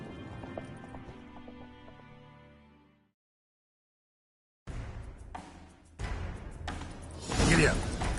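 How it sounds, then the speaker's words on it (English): Horse hooves gallop during a chase in the video game Witcher 3, rhythmic thudding clip-clop that cuts in after a silent gap and grows louder, with music and other game sounds before it. "Grab a horse, we'll chase him."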